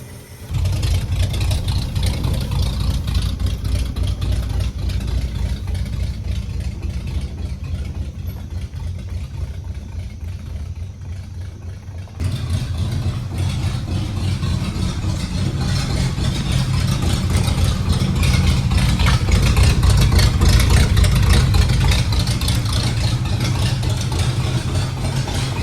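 A hot-rod car engine idles steadily at close range for the whole stretch, a loud, continuous low rumble that grows slightly fuller partway through, with no talking over it.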